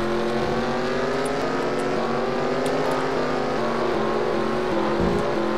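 Several race cars sweep through turn 1 of a sim racing grand prix at Circuit ICAR, their engines a steady, loud, layered drone with overlapping pitches that shift as the pack passes.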